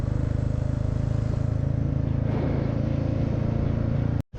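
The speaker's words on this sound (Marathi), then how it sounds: "पहिल्याच गेअरवर गाडी खाली चालली." A vehicle's engine drones steadily while it descends a steep mountain road in first gear on the route from Dharchula to Gunji, a loud, continuous low rumble throughout, cutting out briefly near the end.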